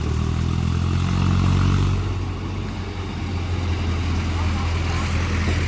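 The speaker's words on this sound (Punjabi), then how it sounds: "ਆਪਣਾ ਟਰੈਕਟਰ ਮੋੜ ਮੋੜਨ ਲੱਗਿਆ" A tractor engine drones loud and steady up close as it turns around near farm houses, a low continuous rumble running throughout with no pauses.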